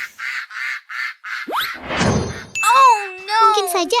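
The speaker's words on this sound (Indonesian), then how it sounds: "Suara anak-anak bebek terdengar dari balik kulit semangka itu." Ducklings hidden inside a watermelon in an animated cartoon give a quick run of five muffled nasal quacks, followed by a thump and squeaky, cartoonish chirps.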